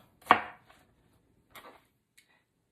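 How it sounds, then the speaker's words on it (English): A knife chopping watermelon into cubes on a cutting board: one sharp, loud chop, then a few lighter, widely spaced taps that fade out. "let me go ahead and cut this up into cubes"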